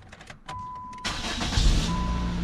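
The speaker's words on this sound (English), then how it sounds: "So I'm going to start up the engine." A 2004 Nissan Sentra engine cranking and catching, starter whir giving way to a rising roar that settles into a steady idle, close by with a faint beeping tone.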